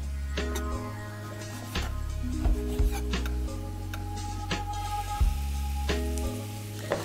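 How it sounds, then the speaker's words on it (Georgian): Diced bacon, about 40 grams in cubes, sizzling and frying in a pan with steady crackle, stirred and scraped with a utensil, heard close with a low hum underneath. "ბეკონი კარგად დაიბრაწოს."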